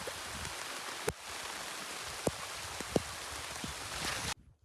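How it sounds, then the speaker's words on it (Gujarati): Rain showers falling over a cotton field, a soft steady hiss of drops with a few sharp nearby drips, continuing evenly before cutting off abruptly near the end. "વરસાદના બે રેડા આવી ગયા છે"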